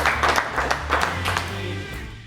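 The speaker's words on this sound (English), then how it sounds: "Let's give a round of applause." Audience applause at a backstage dinner event at Ena Lake Lodge, a brief steady burst of many hands clapping, close and fairly loud, with some low background sound beneath it.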